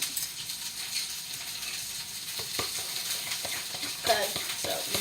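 Sausage frying in a pan while being stirred: a soft, continuous sizzle with intermittent scraping and clicking of the utensil, fairly quiet and close.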